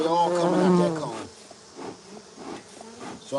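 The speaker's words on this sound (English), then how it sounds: "Cause man, do we got a nice stream of bees coming out." A stream of honeybees leaves a trap-out cone on an old cedar tree, their close, steady buzzing carrying on after a brief voiced sound at the start.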